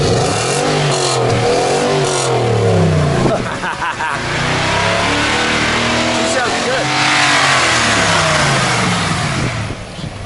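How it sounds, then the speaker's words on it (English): A 2020 Nissan Titan pickup's 32-valve, four-cam engine revs up loudly and close by in repeated rising and falling surges with a raspy tone, while people talk over it. "Here, I'll rev it."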